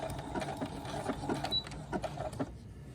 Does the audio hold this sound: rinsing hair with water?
no